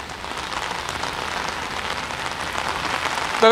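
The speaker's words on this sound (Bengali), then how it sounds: "মুষলধারে যে বৃষ্টি চলছে সেই বৃষ্টি কিন্তু আরও দীর্ঘক্ষণ চলবে" Heavy rain pours down in Kolkata during a thunderstorm, a steady, dense hiss of downpour heard alone and fairly close, swelling slightly toward the end.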